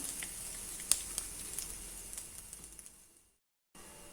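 Peanuts and asafoetida sizzle in hot oil for a mosambi rice tempering, giving a steady, close hiss with small crackles and pops before it cuts out briefly and resumes.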